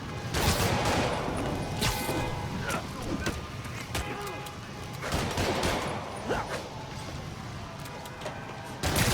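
Gunfire from the video game Spider-Man PS4 Remastered, played on PC during the first boss fight: dense, continuous volleys of shots with sharper bursts rising out of a loud, steady wash of game noise.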